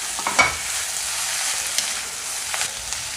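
Tomato going into onions frying in a pan for a Kerala-style American cake, with a steady close sizzle and a few stirring scrapes throughout, no talking.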